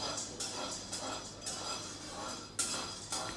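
Maize being stirred while dry-roasting in a pan, with repeated metallic scrapes and clinks of a utensil against the pan over a soft rustle of grains, fairly faint and close, with a voice talking quietly.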